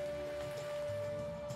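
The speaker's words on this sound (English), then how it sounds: "in the rain. Pouring rain, as it says" Heavy pouring rain over planted fields in a farming video game: a steady, even hiss of downpour holding at a constant low level with no talk over it.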